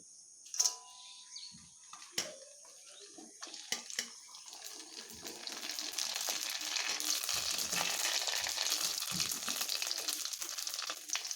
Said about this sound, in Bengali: তেল গরম হয়ে গেছে। এবার আমি এখানে একটি একটি করে এই পাঁপড়গুলোকে ছাড়বো।